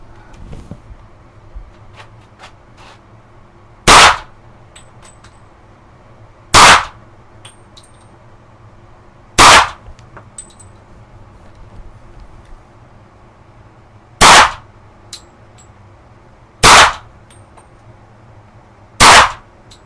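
Six loud, sharp single shots from Mauser C96 carbines, spaced a few seconds apart at an outdoor range, with faint background noise between the reports.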